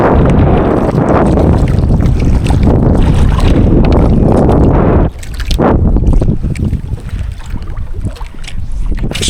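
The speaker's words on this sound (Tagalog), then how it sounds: "Medyo masama yung panahon tapos medyo malakas yung hangin mga master." Strong wind buffets a small fishing boat out on the water in bad weather, a loud, constant roaring rush across the microphone that briefly drops and then gusts back.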